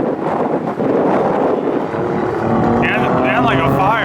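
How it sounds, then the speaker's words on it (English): Wind buffeting a microphone outdoors at a drift track, a loud continuous rumble with a person talking over it and a faint engine-like whine late on. "We got some wind going on out here."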